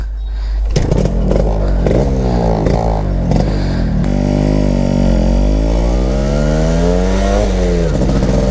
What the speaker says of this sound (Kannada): ಸೊ ಬನ್ನಿ ಗಾಡಿ ಓಡಿಸ್ತಾ ಮಾತಾಡ್ಕೊ ಹೋಗೋಣ